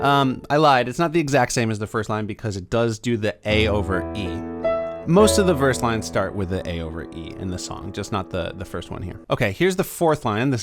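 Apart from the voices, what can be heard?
No everyday noises stand out.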